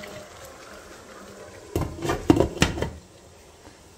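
A cooking pot lid is set and closed on a pot of chicken karahi simmering over a medium flame, a short cluster of clattering metal knocks against faint background hiss, then quiet.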